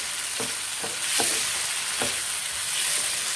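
Liver masala bubbles and sizzles in a pan close up, with a handful of soft stirring knocks spaced through the short stretch of steady frying.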